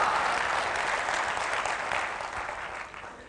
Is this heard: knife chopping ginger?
no